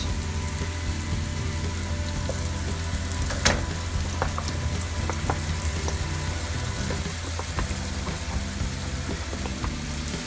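Mushrooms sautéed with cream in a pan being stirred, a steady close sizzle with light scraping and occasional clinks, continuous and alone.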